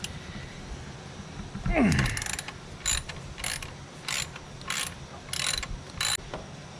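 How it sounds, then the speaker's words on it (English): A ratchet loosens a bolt on a 2010-2016 Cadillac SRX engine during serpentine belt replacement: a clink, then repeated short bursts of clicking, about seven in a steady rhythm, close and clear. "it looks like I can get to the back one with the ratchet."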